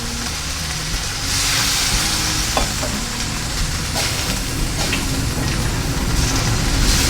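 Squid stir-fried in a wok for Thai pla muek phat cha gives a loud, continuous hiss and crackle throughout, with a few light scrapes of the spatula against the metal.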